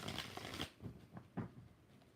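Tarot cards are shuffled in a quick flurry of close riffling bursts, then a few softer separate flicks and taps trail off.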